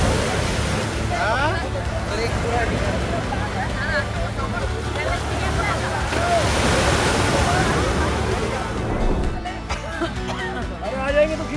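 Roaring ocean surf rolls in on the beach at Poovar Island, Kerala, a loud continuous wash of breaking waves with wind buffeting the microphone and voices talking over it.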